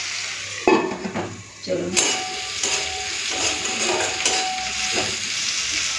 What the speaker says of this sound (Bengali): উচ্ছে ভাজাটা হয়ে গেছে